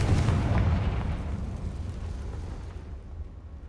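A Confringo blast spell from the Hogwarts Legacy video game goes off as a loud, close boom right at the start, its heavy low rumble slowly dying away over a few seconds with no talk.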